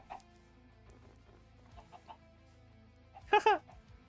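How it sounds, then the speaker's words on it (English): Chickens in a modded Minecraft game give a few soft scattered clucks, then a louder, sharper cluck near the end over a quiet background hum. "And they still make chicken noises."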